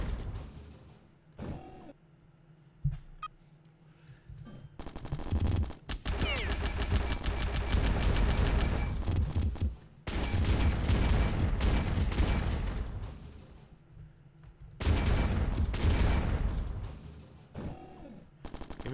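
Shotgun fire in the video game Bad Bots comes in three long, loud stretches of rapid, booming shots and mechanical clatter, separated by brief quieter gaps.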